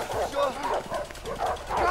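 Dogs in A Way Out bark and yip repeatedly at close range during a chase, the excited barks mixed with voices and game noise.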